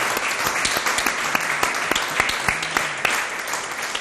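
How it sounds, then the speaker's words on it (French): An audience in a studio applauds performers leaving the stage, with dense, lively clapping and distinct sharp hand claps standing out near the front throughout. "Alors, on va applaudir pour elles pendant qu'elles sont en train de quitter ce plateau."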